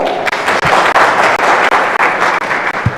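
An audience claps at a women representative political debate in Turkana, a loud, dense burst of applause that stays full throughout with a few brief dips and no speech over it.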